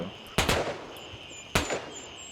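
Two sharp, loud gunshots ring out in the Gray Zone Warfare shooter game, spaced about a second apart, each with a brief rumbling tail and no speech over them.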